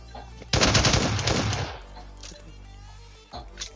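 Rapid, loud automatic bursts of SCAR rifle fire from a PUBG Lite match, a dense volley lasting about a second before dying into quieter game ambience, with one more faint shot near the end.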